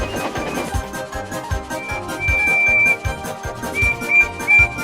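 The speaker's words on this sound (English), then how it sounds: ""Help, help," whistled Percy." A steam engine's whistle, Percy the engine crying for help as runaway trucks push him careering down a hill, sounds as a few shrill, sustained toots over a busy musical backing.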